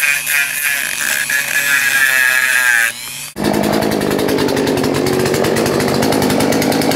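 A chainsaw or similar power tool cuts into a six-foot wooden Frankenstein carving, first a high whining rev, then a brief drop before a loud, rough, steady buzzing cut that runs continuously and close.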